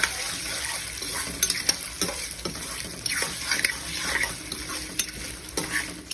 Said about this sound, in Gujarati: આપણે મિક્સ કરતું રહેવાનું છે, તેમાં જ આપણે સાતળવાનું છે બટેકાને